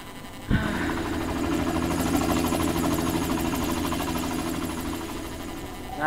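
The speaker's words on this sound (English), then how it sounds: "Nice helicopter." Helicopter in the Secret World Legends video game, a steady droning rotor and engine roar that starts abruptly and holds at an even, fairly loud level with no talk over it.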